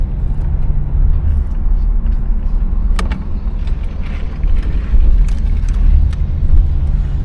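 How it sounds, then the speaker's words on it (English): A 1985 Chevrolet Caprice engine runs with a steady, quiet low rumble throughout, heard from inside the car, with a few faint clicks and no belt whine or exhaust leak noise. "Motor sounds nice and quiet."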